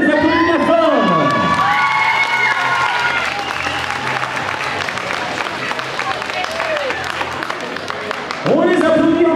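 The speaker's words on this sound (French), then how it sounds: "On les applaudit bien fort." An audience applauds and cheers loudly for Rami Jacob and his dancers, dense clapping mixed with shouts and whoops. Voices rise over the crowd at the start and again near the end.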